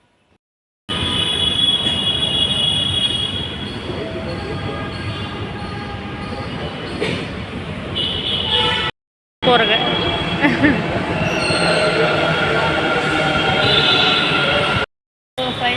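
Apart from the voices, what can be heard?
metro train running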